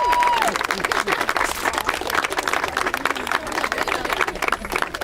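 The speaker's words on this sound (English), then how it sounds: "Let's give a round of applause to our middle schoolers from Hubert joining us today for this event." A crowd at an outdoor tree nursery ribbon cutting applauds visiting middle schoolers, dense continuous clapping at moderate loudness, with a few faint voices mixed in.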